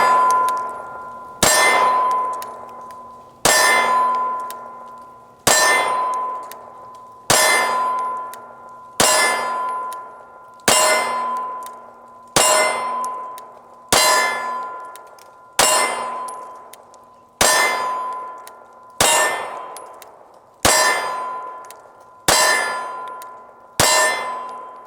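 9mm rounds from a Canik TP9SF Elite handgun strike a steel target, giving about fourteen loud ringing clangs at a steady pace, each with a long metallic decay.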